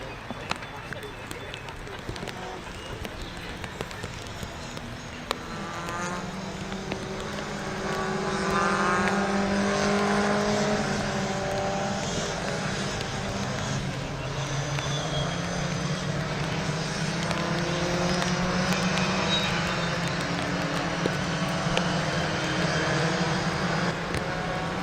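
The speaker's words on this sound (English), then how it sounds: "just let you appreciate all these cars as they go round at slow canter" Pre-1966 touring cars lapping Oulton Park circuit at a slow pace, a steady mixed engine drone that swells as cars pass and sustains for a long stretch.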